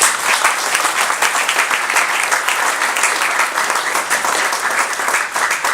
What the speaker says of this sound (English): let's welcome Andrei Lankov with a big round of applause